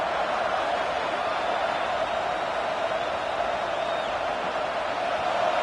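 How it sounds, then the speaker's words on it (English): A football stadium crowd at a Georgia Bulldogs game roars steadily and loudly for the full stretch as the defense tries to get a stop. The crowd noise stays dense and sustained, with no single voice standing out. "this crowd coming to life here, trying to help the defense get a stop"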